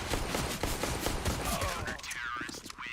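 Rapid gunfire in a CS:GO pistol-round firefight at a DreamHack Masters match, with a burst of repeated sharp shots through the first two seconds, then fading into quieter game noise.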